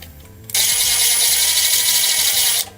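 A power drill whirs loudly right next to the microphone in a single steady burst of about two seconds that starts and stops abruptly, with no talk.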